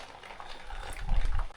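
Water pours into a container at a village home in Konkan, a soft liquid rush that builds into a fuller gurgling splash toward the end.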